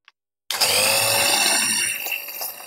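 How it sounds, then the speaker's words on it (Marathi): A hand mixer whips instant coffee with a few spoonfuls of hot water for cold coffee, its motor starting abruptly after silence into a loud, steady high whine that eases slightly toward the end. "आणि इथे मी हँड मिक्सरनी"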